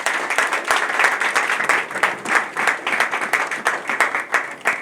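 A church congregation at a pastor's consecration service claps in steady rhythmic unison, a dense, even patter of many hands with no talk over it.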